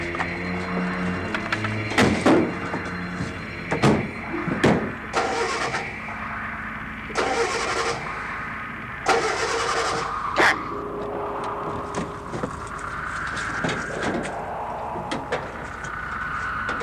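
A car engine in a 1966 film scene cranks repeatedly in short bursts, with door thunks and faint movement between the tries, until it catches and settles into a running idle.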